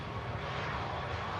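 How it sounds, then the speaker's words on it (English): EasyJet airliner rolling to a slow stop on a runway, a steady broadband jet engine roar heard from fairly close, continuous and even. "There's the EasyJet from Tivat, comes to a slow stop."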